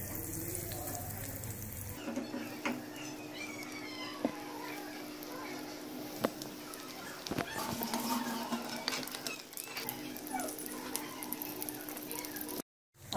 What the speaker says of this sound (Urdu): اب ہم اس کو فرائی کرتے ہیں۔